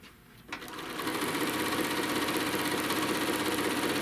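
A sewing machine stitches a crochet bag panel through its batting layer, starting after a brief pause and then running in a steady, even, rapid hum, close by with no talking.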